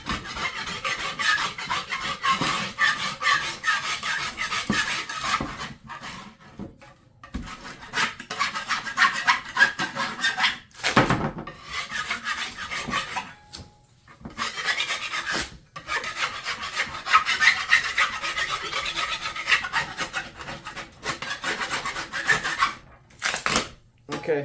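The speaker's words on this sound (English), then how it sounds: "just scrape it a little." Continuous rough scraping and rasping as old grip tape is worked off a skateboard deck, steady and close with short pauses between strokes and little talk.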